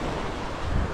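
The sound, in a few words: sea waves on the shore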